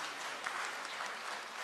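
An audience at a business session on digital banking strategy gives a brief, faint round of even clapping that sounds distant and lasts under two seconds.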